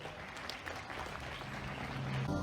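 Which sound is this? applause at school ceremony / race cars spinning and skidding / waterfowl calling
applause at school ceremony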